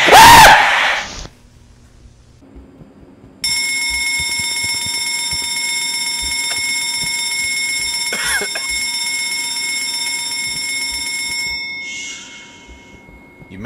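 A fire alarm in the horror game Escape the Backrooms rings as a steady, high electronic tone for about eight seconds. It holds at an even loudness, then cuts off, with faint in-game movement beneath it.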